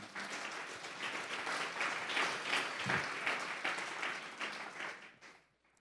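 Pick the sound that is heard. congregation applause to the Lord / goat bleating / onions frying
congregation applause to the Lord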